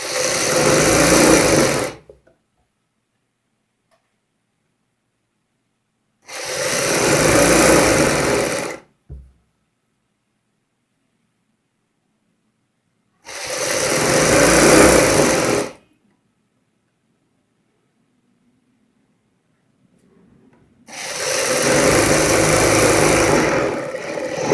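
A sewing machine stitches the seam of a palazzo pant in four separate bursts of about two to three seconds each, with silent pauses between them. Each burst is a steady, loud mechanical whir.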